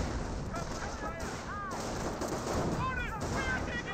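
Sustained gunfire in the World War II strategy game Company of Heroes, rapid overlapping shots and bursts from Panzer Grenadier squads, dense and continuous with whistling tones layered over the battle.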